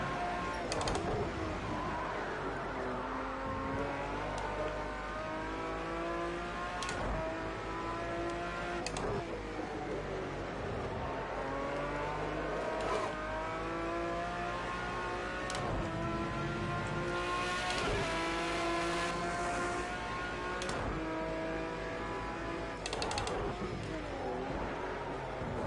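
A race car circles Donington race track in cold conditions, its engine revving hard through repeated upshifts and downshifts with steady, loud mechanical drone and brief sharp gear changes throughout.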